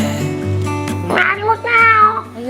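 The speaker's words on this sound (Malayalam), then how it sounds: "അയ്യോ ഒരു കണ്ടം പൂച്ച." A cat meows loudly and close by in a home during a morning school-day routine, giving a couple of drawn-out, wavering cries over a steady background hum.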